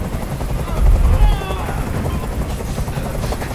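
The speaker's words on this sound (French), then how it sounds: "Je peux plus supporter ce bruit. Fais dégager cet hélicoptère, maintenant!" Helicopter hovering in the video game Detroit: Become Human, a loud continuous rotor thump and engine drone filling the scene, steady throughout with a brief swell near the start.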